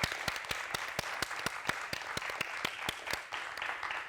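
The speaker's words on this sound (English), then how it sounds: "So let's just have another round of applause for Courtney and for Still Black." An audience applauds for a documentary screening, a sparse, fairly even patter of individual claps sounding moderately near and steady throughout.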